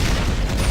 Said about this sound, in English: There's just explosions.